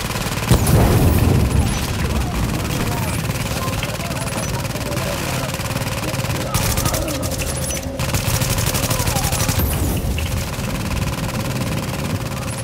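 An automated sentry gun in The Division fires amid dense combat, with continuous rattling gunfire and engine-like rumble throughout, and a voice talking over the shooting.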